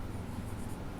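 Pen writing on paper while a formula for the investment multiplier is worked out, a continuous close scratching of the nib with no speech.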